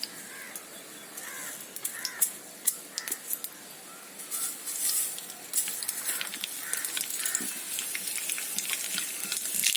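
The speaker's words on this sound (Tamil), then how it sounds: "எண்ணெய் சூடானோன்னா இப்போ இதில் கடுகு உளுந்தம்பருப்பு போட போகிறோம்." Mustard seeds and urad dal frying in hot oil as a tempering for a village-style keerai thandu poriyal. Scattered sharp pops crackle at first, then the sizzle thickens into a louder, steady hiss, with no talking.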